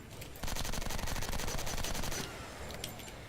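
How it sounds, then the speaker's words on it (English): A light machine gun in a video game fires one rapid, loud, continuous burst lasting under two seconds, then falls away into softer trailing clatter. "And then you get the light MG,"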